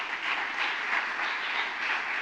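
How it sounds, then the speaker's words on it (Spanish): A congregation applauds during a Spanish-language church sermon, the clapping dense, steady and continuous from start to finish with no voices over it. "Le damos un aplauso fuerte al Señor."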